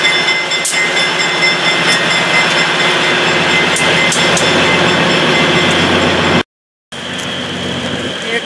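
Train on the White Pass railway in Alaska rolls past with a loud, sustained rumble and rattling wheels, a few sharp clicks over the top, then a brief dropout before the rolling noise resumes.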